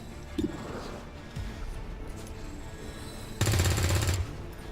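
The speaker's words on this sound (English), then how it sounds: "So I think we shoot it with Yasha." A rapid automatic gunfire burst from the video game XCOM 2, a loud rattling volley near the end following a few quieter thuds and game ambience.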